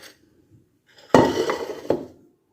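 A bowl is picked up and set down, giving a sharp ceramic clink followed by brief rattling and a second knock, close and clear after near silence.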